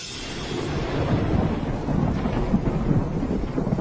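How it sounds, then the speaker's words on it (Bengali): Heavy rain drumming on a tin roof of a bamboo house beside a field at night, with deep thunder rumbling under the steady downpour; loud, continuous and close, no voices. "শোনো তো, এই টিনের চালে বৃষ্টির শব্দটা কি মধুর লাগছে আজ রাতে"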